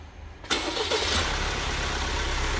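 Opel Astra K car engine cranking and catching after a quiet moment, then settling into a steady close idle with no talk.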